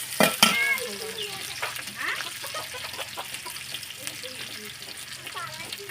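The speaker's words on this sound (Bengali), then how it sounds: "এক কাপ তেল দিলাম এখন পেস্টটা নাড়াচাড়া করতেছি" Sidol paste fries in a cup of oil while being stirred in a pan, giving a steady sizzle with scraping utensil strokes. Birdlike chirps and a brief voice come through near the start.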